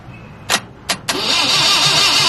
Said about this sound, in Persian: این روشن نمیشه، این باید هول بدی، با هول باید روشن شه